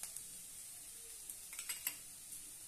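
Food stir-fries in a pan with salt added, a soft steady sizzle under a few light scraping and tapping sounds from a utensil against the pan, quiet and close.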